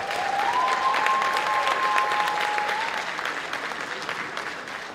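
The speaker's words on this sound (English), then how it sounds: "you can give a round of applause" Loud, sustained applause fills an awards ceremony hall at the Local Heroes Awards 2023, with a sharp whistle cutting through the clapping early on before the crowd gradually eases off.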